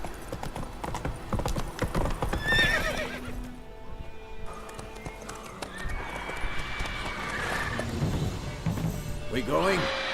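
Roach, a horse in The Witcher 3 video game, clip-clops at a steady gallop and lets out loud whinnies, with a voice talking over the hoofbeats.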